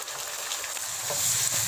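Tomatoes hit golden fried onions in a hot pan for a home-style aloo keema, giving a steady, close, loud sizzle and crackle that swells slightly toward the end, with no talking.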